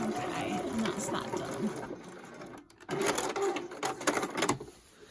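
A sewing machine runs in steady, fairly faint stretches while stitching a set-in sleeve into a garment, with a brief pause in the middle, and someone talks over the machine.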